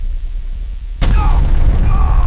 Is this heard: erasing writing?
no